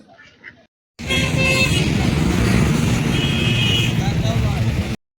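Cars and motorbikes in the parking area below Karla hill, near the Ekvira temple, make a loud steady roadway rumble with brief horn toots. A faint voice is heard before the traffic noise starts abruptly and runs on until it cuts off.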